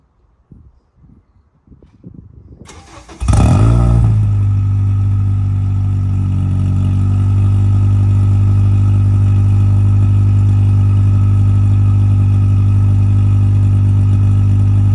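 A car from a collection cold-starts after sitting unused for a week, catching with a sharp burst and settling into a loud, steady, rumbling idle close by, after a few seconds of quiet shuffling.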